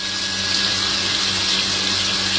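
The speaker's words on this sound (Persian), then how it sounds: "آب خرمشهر، گل از لوله داره میاد پایین" Muddy tap water gushes from a pipe in Khorramshahr, Iran, a loud, steady, close rush of running water with no pause.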